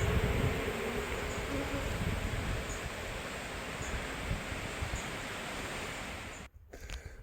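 Honeybees shaken off thick honey frames pulled from a hive raise a dense, steady buzzing swarm drone close by, with light rustling and a sudden brief drop near the end.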